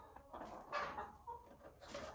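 Homestead chickens cluck softly and murmur near a coop door during evening chores, faint and close.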